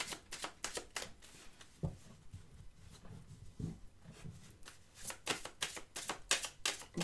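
Playing cards slap and slide down onto other cards on a table in quick irregular bursts, with soft papery flicks and a couple of duller taps, close and without speech.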